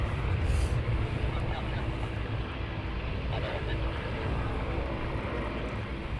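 An Avro Lancaster bomber's piston engines run up on the ground, a continuous dense rumbling drone heard at a distance, steady and unbroken, with wind noise.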